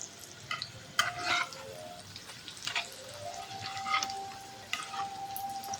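Pakoras sizzle in hot oil on a gas stove after being flipped, a soft steady frying crackle under sharp clinks and scrapes of a utensil against the pan.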